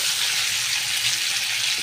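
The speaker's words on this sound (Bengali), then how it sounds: "একটু লাল লাল করে এটা ভেজে নেব।" New potatoes frying in oil for aloo dum give off a dense, even hiss of sizzling, loud and close, with no voices.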